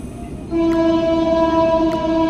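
A Sydney local passenger train runs near Granville station with a steady, loud tonal whine and hum from its motors over a low rumble, rising in level after a brief quieter start.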